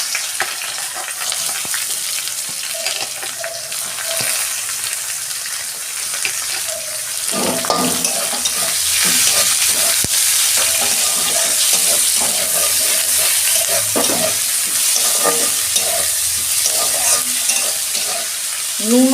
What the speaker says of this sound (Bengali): পেঁয়াজটা আমি ভেজে নেবো ভালো করে, লাল লাল করে।